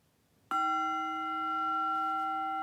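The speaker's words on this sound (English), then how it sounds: "Really clock those bells." A single meditation bell is struck once after a moment of silence, producing a clear, loud ring with steady overtones that sustains without fading much for over two seconds in a quiet room.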